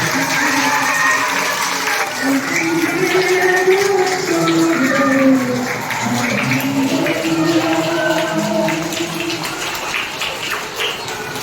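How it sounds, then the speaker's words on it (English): Children at a pre-primary school farewell programme clap together, a steady patter of small hands under talking and background singing. "Clap, children, clap."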